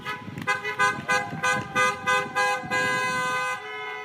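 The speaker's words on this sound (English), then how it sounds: "could still hear the honking when she went inside" Car horns honking from a passing car caravan, a run of repeated toots in an uneven rhythm followed by one long sustained blast, moderately near over traffic noise.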